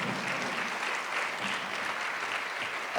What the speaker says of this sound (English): Let's give Tega a round of applause.